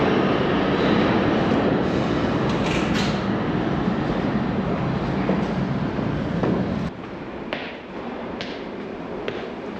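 An Amtrak passenger train rolls along in a constant loud rumble heard from inside the car, with faint creaks and clicks from the wheels; the roar eases slightly near the end.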